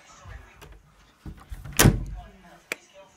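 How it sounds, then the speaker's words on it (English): A door kicked open in a video game, a sharp loud broadband bang in the middle of the clip, with a few softer thumps before and a brief knock after. "if he tries to open this door, I'm just going to kick it"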